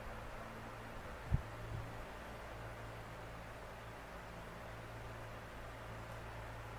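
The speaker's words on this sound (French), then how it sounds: "Si vous entendez un bruit, c'est normal, c'est le ventilateur derrière moi." An electric fan behind a person runs with a steady, even whir and low hum throughout, with a couple of faint thumps near the start and no talking.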